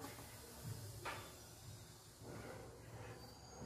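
A pressure cooker of rasam rice, already cooled, lets out air through its whistle as a faint, steady steam hiss with a brief sharper burst, all quiet and close.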